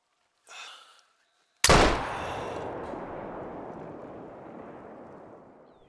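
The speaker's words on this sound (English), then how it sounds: "Now I'ma shoot this guy. We're gonna use the 470 this time." A single .470 rifle shot rings out in theHunter Call of the Wild, a sudden loud crack followed by a long rolling echo that fades over several seconds, preceded by a brief soft rustle and near silence.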